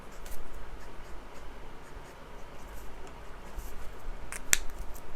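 Copic Sketch markers drawing on paper, soft continuous scratchy strokes close up, with a sharp click near the end that may be a marker cap, and no talking.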